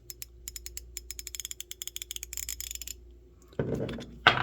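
A Duratech Pro 90-tooth ratchet wiggled back and forth with a socket fitted, giving fine rapid clicking bursts, close and fairly quiet, followed by a couple of louder handling knocks.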